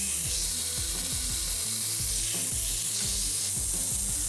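Beef brisket searing in a hot pan gives a constant loud sizzle, cut by rhythmic scraping and stirring strokes of a utensil against the pan, with no talking.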